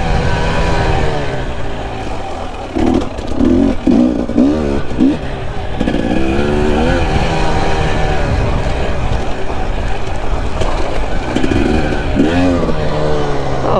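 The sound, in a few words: KTM 300 XC-W TPI enduro motorcycle being ridden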